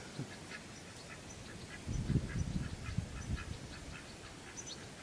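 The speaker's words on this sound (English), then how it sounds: "these two here, they're called white Peking ducks" A pair of white Peking ducks on a UK smallholding giving a few low, soft quacks and honks, faint and close, over quiet outdoor background.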